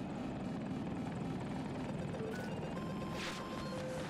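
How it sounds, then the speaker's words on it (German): Steady rotor thrum of a KA-520 Super Hokum helicopter passing overhead in a video game match on the Hourglass map, loud and continuous throughout, with faint game effects and brief tones layered on top. "Heli über uns, der kommt."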